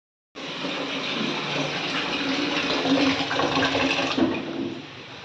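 Water runs from a tap into a container at home, a steady gushing stream that starts abruptly and continues for about four seconds before easing, close and moderately loud.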